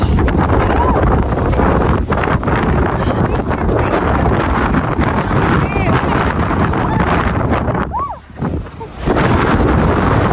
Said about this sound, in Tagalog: Dito galing yung hangin sa ibaba.